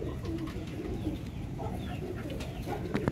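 Rare shy zeera pigeons kept by a fancier in Sialkot coo in low, soft bursts amid steady background noise, with no voices.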